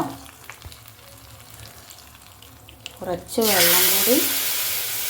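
Palakkad-style varapulinkari tamarind curry: after a spoken line, hot oil tempering hits the curry with a sudden, loud, close sizzle that fills the last couple of seconds.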